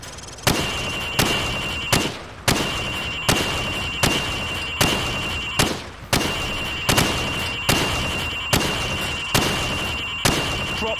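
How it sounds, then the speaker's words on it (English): Gunfire from Call of Duty 4: Modern Warfare as a rifle shoots pop-up targets through wooden cover on a training range: a steady run of about a dozen loud, sharp single shots roughly one second apart, with no talk. "I want you to shoot the targets through the wood."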